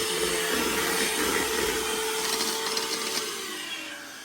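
An electric mixer beating pizzelle batter gives a steady motor whine with a rough, churning texture throughout, easing off slightly toward the end; no voices.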